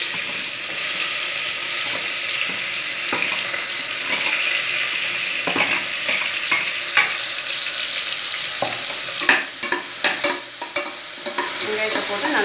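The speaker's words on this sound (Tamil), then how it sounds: "அதை வெடித்த உடனே நம்ம வெங்காயத்தை போட போகிறோம்." Onions fry in sesame oil with cinnamon and cloves in a pan, making a loud, continuous sizzle. Scraping and clattering from stirring come through, clustered toward the end, with no talking.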